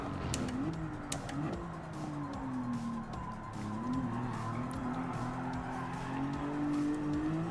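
Race car in Gran Turismo 7 with traction control turned down, engine droning and tires squealing as it slides through corners, steady and moderately loud game audio with no talk.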